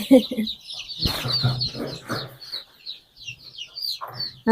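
Week-old chicks in a box are handled for a Ranikhet vaccination, giving high thin cheeping and peeping scattered through the scene, close by, alongside a voice talking and rustling handling noises.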